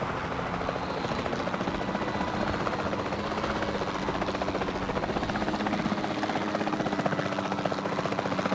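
A helicopter in the video game Jurassic World Evolution 2 drones steadily with a constant rapid rotor chop and engine whine, even and continuous throughout, with no talk over it.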